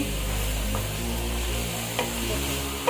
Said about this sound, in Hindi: हरी प्याज बिल्कुल आखिर में डालेंगे, इसे मिक्स कर लेंगे